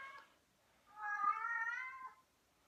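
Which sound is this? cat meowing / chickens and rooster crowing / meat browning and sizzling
cat meowing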